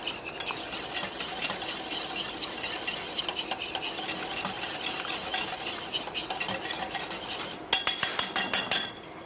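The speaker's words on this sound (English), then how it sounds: "Just whisk them up nice, get a little" Egg yolks and sugar whisked by hand in a bowl, a dense continuous rapid scraping rattle close to the microphone, ending in a few louder, slower strokes, with no talk.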